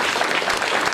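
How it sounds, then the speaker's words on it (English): A gathering at an inaugural function bursts into a brief, loud round of applause, many hands clapping densely and evenly throughout. "Let's celebrate this inspiring gathering with a big round of applause."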